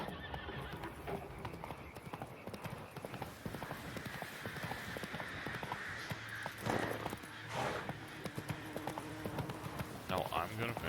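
Horse hooves clip-clop steadily with a whinny in The Witcher 3 video game, layered with game music and ambience and a voice talking over the ride.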